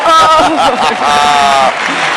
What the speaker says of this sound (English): the crowd here in the Palacio de Deportes here in Madrid, they all in unison applaud that